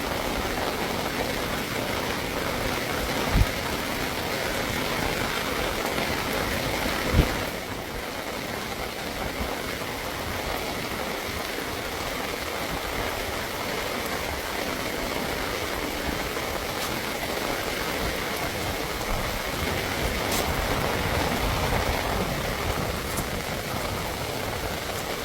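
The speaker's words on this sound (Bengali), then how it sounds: "জঙ্গলের ভিতরে প্রচুর বৃষ্টি হইতেছে এখন" Heavy rain pours over the Sundarbans forest during a fishing trip, a dense, unbroken roar of downpour that holds steady, with a couple of brief knocks early on.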